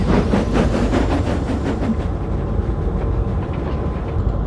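A runaway toy-style engine rolls along rails with a steady rumbling clickety-clack, loud and close, the rhythmic wheel beats fading slightly toward the end.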